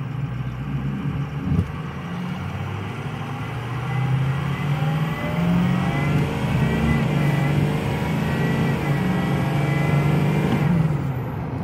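A Ford 6.0 Powerstroke diesel pickup pulls hard from a standstill, its deep engine roar swelling steadily and holding loud and close for the whole stretch.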